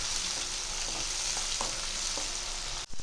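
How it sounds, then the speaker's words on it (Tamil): Chopped tomato sautéing in a pan for fried idly, a steady loud sizzle with a few soft stirring knocks from a spoon, close and continuous, with no talking. "இது நல்லா வதக்கி விட்டுக்கோங்க."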